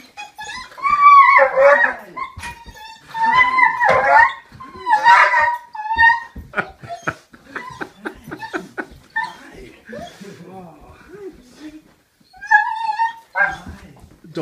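A dog greets a soldier returning home, giving excited whimpers, whines and yelps in bursts close by while people talk warmly over it.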